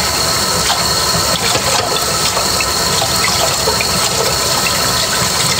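Tap water runs steadily into a sink while dishes are washed up, a constant close rush of water with faint clinks and no voices.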